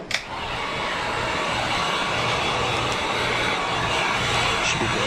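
Heat gun blowing hot air onto vinyl wrap on a 10th-generation Honda Civic door, a steady close roaring whoosh that holds evenly throughout with no talking.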